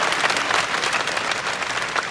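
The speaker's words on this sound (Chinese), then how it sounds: "掌声谢谢董事长" Audience applause for the chairman at a new-employee ceremony for an airline, a dense, steady wash of many hands clapping that stays at an even, fairly loud level throughout.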